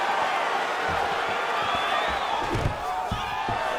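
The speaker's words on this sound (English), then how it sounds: "Oh, nice pop there from the crowd as he finally gets the takedown." Arena crowd in EA Sports UFC 4 roars steadily as a fighter lands a takedown, a dense, sustained swell of cheering with a few thumps and bumps underneath, spanning the whole stretch at even loudness.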